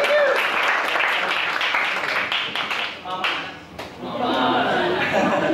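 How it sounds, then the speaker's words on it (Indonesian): A church congregation breaks into broad applause during a Sunday service, dense clapping filling the room with a brief dip midway before swelling again, mixed with some voices. "Berikan tepuk tangan yang"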